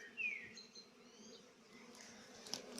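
Bees buzz around a Warré hive, a soft steady drone with individual insects passing close now and then over faint outdoor background.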